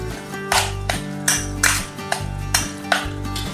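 Spices, green chillies and garlic being mixed together in a bowl, with repeated bright clinks and taps of a utensil against the bowl at an irregular rhythm, close and fairly loud.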